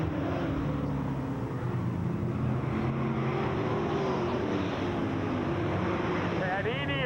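Race cars lapping a speedway in the closing laps of a race produce a droning, layered engine hum under wind buffeting on the microphone, with one car's pitch sweeping past near the end.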